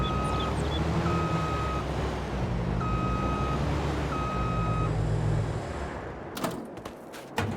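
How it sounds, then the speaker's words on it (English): Rhythmic electronic reversing beeps from a vehicle in an Xbox farming game, repeating steadily over a low engine rumble before a few sharp knocks at the end. "As soon as things start beeping, beep, beep, beep."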